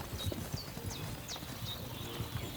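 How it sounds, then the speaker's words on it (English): Horse hooves clip-clop at a steady riding gait in the medieval video game Kingdom Come Deliverance 2, with light rhythmic thuds close by and no talk over them. "Is the horse riding automatic?"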